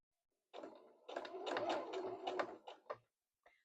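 Sewing machine stitching down to a seam, a quiet burst of rapid mechanical clatter lasting about two seconds, then stopping, followed by a faint click.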